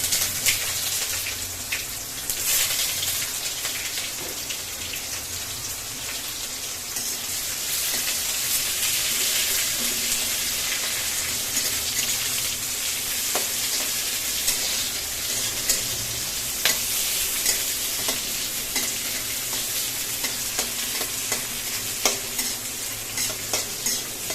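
Chopped onions sizzle with black cumin seeds in hot oil in a pan, a steady, close crackling hiss with occasional stirring scrapes, continuous and without speech.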